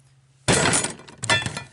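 A cooked potato is smashed flat on a hard surface, a sudden loud crushing crunch followed by a second squashing press, up close.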